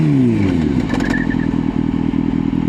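A motorcycle rear wheel skids under hard braking during a braking drill. A loud engine drone falls in pitch as the bike slows, and a brief squealing tyre scrub cuts through midway, with no voices.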